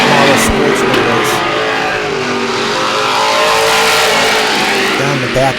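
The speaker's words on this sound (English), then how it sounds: "we got a few highlights here of the late model sportsman race" Late model sportsman race cars roar around an oval track, a loud continuous engine drone with revving swells as the pack passes, under a commentator's talk.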